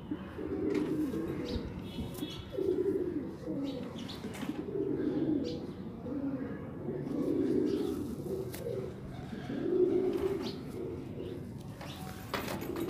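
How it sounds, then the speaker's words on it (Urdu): Soft, low coos from a high flyer pigeon repeat in rolling phrases, with faint rustling and a few light clicks in the background. "یہ کون سی نسل کا کبوتر ہے"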